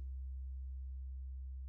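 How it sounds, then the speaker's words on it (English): A quiet, low sine tone from a synthesizer's bandpass filter output, starting with a faint brief higher blip, then holding as a smooth pure hum that gently decays, isolated with no other sounds. "we have a pretty silent decaying sine wave"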